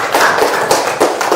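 A classroom of students clapping together in short, uneven bursts of close, sharp hand claps.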